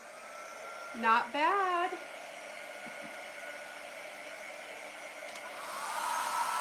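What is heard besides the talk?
blow dryer running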